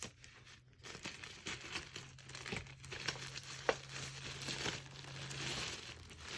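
Plastic toy packaging for a Care Bear Mega POP figure crinkles and tears as it is cut open, close and fairly quiet, with scattered crackles and one sharp snap.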